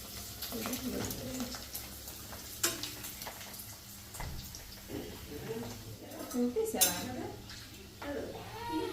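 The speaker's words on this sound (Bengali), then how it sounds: "তেল তো গরম হয়ে গেছে মানে দু একটা বেশি বেশি ফুটেছে না" Potato chips frying in hot oil in a home kitchen, giving soft sizzling with scattered pops, utensil scrapes and clinks, all under ongoing conversation.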